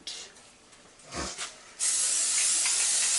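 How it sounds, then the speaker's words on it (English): A brief spray burst, then a loud, steady hissing of cooking oil spray onto a pan from an aerosol can, running continuously to the end, close by. "I'm just going to spray"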